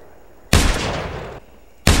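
Gunfire in the video game The Hunter Primal: two loud, sharp shots about a second and a half apart, the first followed by a rumbling decay, with no talk over them.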